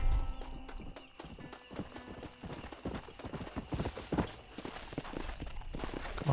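Steady clip-clopping of horse hooves at a walking pace in Red Dead Redemption, fairly close, with a busy game soundtrack and ambient noise layered underneath.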